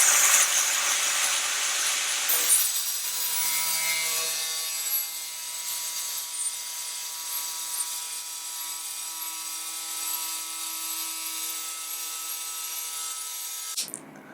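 A piece of wood is cut out with a tool in a workshop, giving a loud rasping saw-like rub that settles into a steadier grinding scrape and then cuts off abruptly near the end.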